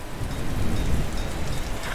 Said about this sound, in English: I really wish it would quit raining so much.